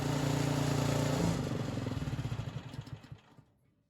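A freshly serviced small engine runs close and loud with a buzzing, throbbing note. Its pulses slow and grow distinct as it winds down and dies away to silence.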